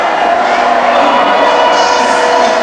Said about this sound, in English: It's a big crowd for a Tuesday night, isn't it?